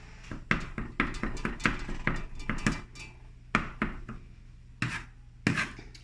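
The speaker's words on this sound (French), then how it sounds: "On hache ça comme il faut." Ingredients for spaghettini with sausages chopped with a knife on a cutting board, a series of crisp, irregular close thuds, briefly pausing, with no talk.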